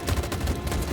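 Troops opening fire in the video game Detroit: Become Human, a loud, dense burst of continuous gunfire filling the whole moment with no talking.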